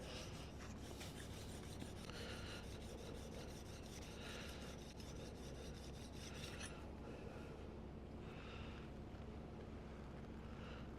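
A steel card scraper is sharpened on a 1000-grit stone, producing a steady series of close, gritty rasping strokes back and forth in rhythmic passes, fairly quiet and alone without talk.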